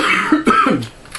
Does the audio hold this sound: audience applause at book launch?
no